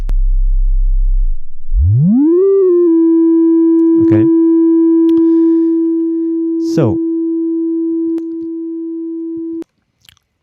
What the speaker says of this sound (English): a sine wave.